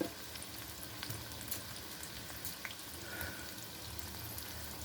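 Food frying in hot oil in a home kitchen pan, turned over to crisp on both sides; a steady, moderately soft sizzle and crackle runs throughout with no talking.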